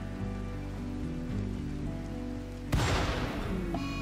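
Foggy rain in the video game Rimworld, a steady wash of rainfall under a droning musical score, then a sudden louder burst of crackling noise near the end.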